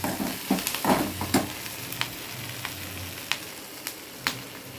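Onions sizzle steadily in a hot pan, with occasional sharp clicks and scrapes of stirring.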